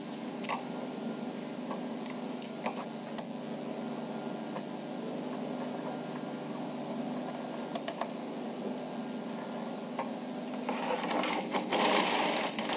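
A Bond Classic knitting machine knitting intarsia: the carriage gives a steady run of light mechanical clicks and ticks, building to a louder rushing clatter near the end.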